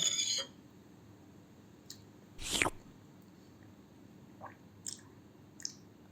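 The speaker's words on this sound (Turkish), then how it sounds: "şöyle bir yapalım bakayım tadına bir bakalım çorbamızın" Someone takes a spoonful of soup, with one brief, louder slurp and a few faint mouth and spoon sounds in a quiet room.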